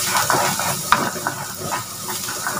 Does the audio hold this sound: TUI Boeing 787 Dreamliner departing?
no